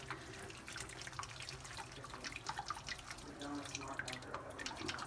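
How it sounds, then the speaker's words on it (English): Homemade chicken stock poured through a colander into a bowl, a quiet continuous splash and trickle of liquid with soft drips, close by, with a voice talking over it. "we're gonna strain all this into the bowl"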